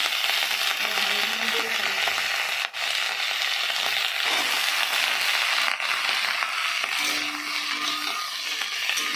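Onions frying and being stirred in a hot pan alongside tomato for a Bengali fish curry, a steady dense sizzle with occasional clinks from the stirring spoon throughout, fairly close.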